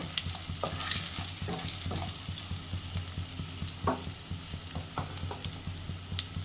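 Lightly crushed garlic frying in hot oil in a pan, cooked for Bengali-style taro leaves (kochur shak) with chickpeas; a steady, fairly loud sizzle runs throughout, broken by scattered crackles and stirring scrapes.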